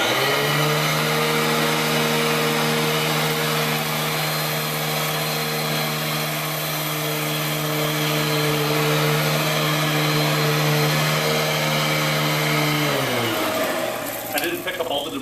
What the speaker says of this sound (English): show you how aggressive the brush and airflow is on the Royal compared to a typical bypass machine